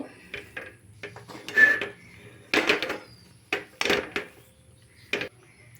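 Stiff dough for palm-fruit roti is stirred in a pan over a low gas flame, heard as irregular wooden knocks, scrapes and soft clacks against the pan, with quiet gaps between them.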